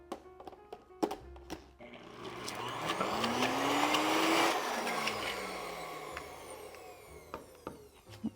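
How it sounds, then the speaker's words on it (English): A blender whirs through a vegetable spread sauce for a garden focaccia, the motor note rising and swelling to a loud peak midway before easing off, with clunks and knocks of handling around the start and end. "So now we're just going to blend this until it's really well blended and it's kind of like a sauce."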